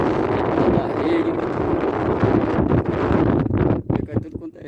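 Strong sea wind buffets the microphone during net fishing from a canoe, a loud, continuous roar and rumble with gusts that ease toward the end.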